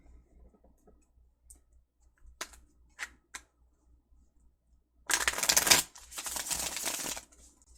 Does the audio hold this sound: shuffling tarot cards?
yes